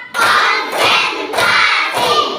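A class in an Indonesian classroom claps as one group on a counted rhythm, giving four evenly spaced, loud clap bursts.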